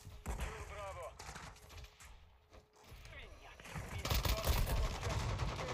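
Gunfire rattles in a shooter game, with scattered bursts and impacts that swell louder toward the end, mixed with game effects and some background voice.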